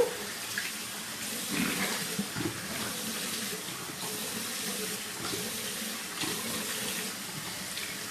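Tap water runs steadily into a sink as a face is rinsed at a facial skincare session, a continuous broadband rush with small splashing variations, fairly close and without speech.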